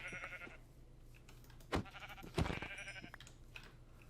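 Sheep bleat in a survival-game battle match on an island map, a couple of short wavering calls over a steady background of ambient game sound.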